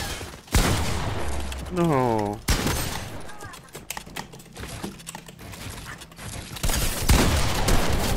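Gunfire in a Fortnite box fight: loud bursts of rapid shots and clicks come in quick clusters, with a voice speaking briefly between them.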